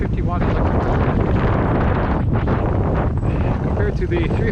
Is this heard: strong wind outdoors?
yes